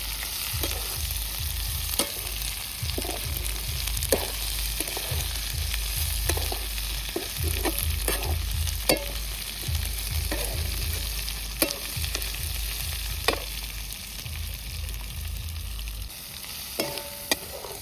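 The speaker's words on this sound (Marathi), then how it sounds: "सुकट चांगली तळून झालेली आहे त्यामध्ये कांदा टाकून परतून घ्यायचे" Dried fish (sukat) and onions stir-fried in a pan, a close, steady sizzle under repeated stirring and scraping strokes with occasional sharper clinks, no one speaking.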